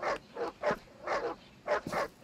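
Dog barks from a video game, six or seven evenly spaced barks at a moderate level, repeating in a steady rhythm with nobody talking.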